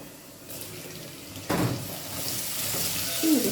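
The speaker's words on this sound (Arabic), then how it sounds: "البصله اتحمرت اهي. ننزل عليها بمعلقه الثوم." Chopped onion frying in a pan as a spoonful of garlic goes in, a steady sizzle that swells suddenly partway through and keeps crackling close by, with a brief metallic clink near the end.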